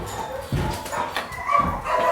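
A dog barks a few times somewhere nearby, short muffled yips and woofs over a low indoor background.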